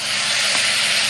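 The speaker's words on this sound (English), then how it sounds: "So like you can see that it sizzles." Prawn fried rice seasonings sizzle steadily in a hot wok, a dense, loud, continuous hiss with no pauses and no voices.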